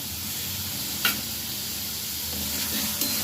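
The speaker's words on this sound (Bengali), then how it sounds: "দিয়ে আমি ভালোভাবে মশলাটা কষিয়ে নেব।" Tomato paste with turmeric and spices frying in a pan, a steady close sizzle with a couple of brief scraping stirs, no talking.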